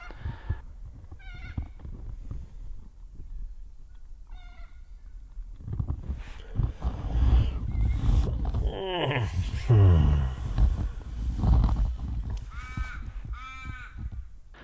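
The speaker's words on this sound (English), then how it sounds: "the sound of Old Man Crow awakes me from my slumber." Several harsh crow caws ring out outdoors in the countryside near New Norcia, Australia, scattered across the clip, some distant and some closer, over a soft ambient background.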